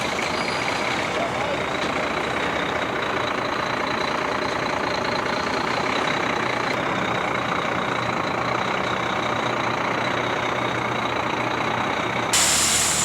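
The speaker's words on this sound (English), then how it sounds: "some careful backing, and the first of the trucks back onto the barge and disappear into the darkness." Trucks hauling fertiliser reverse onto a barge ramp on a beach at French Pass, New Zealand, their diesel engines rumbling steadily close by, with a reversing beep and a hiss of air brakes.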